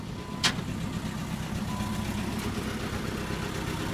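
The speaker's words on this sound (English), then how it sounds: "About to get the engine running real smooth." A twin-turbo Nissan 300ZX Fairlady from 1990 cranks with a brief sharp burst, then settles into a steady, fairly loud mid-pitched idle with a low rumble throughout.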